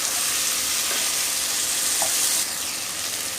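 Spring onions being stirred and fried in a pan give off a loud, continuous close-up sizzle, with a couple of faint stirring touches; the hiss eases slightly toward the end, and no one speaks.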